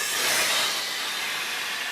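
A train pulling out of Pontivy station, heard as a steady, loud broadband hiss and rumble with a bright rushing texture, close by and continuous, with no voices.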